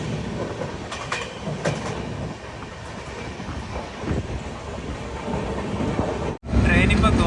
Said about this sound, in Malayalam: ട്രെയിൻ ഇപ്പോൾ ഗോൽപ്പാറ ടൗൺ റെയിൽവേ സ്റ്റേഷനിലേക്ക് എത്തിക്കൊണ്ടിരിക്കുകയാണ്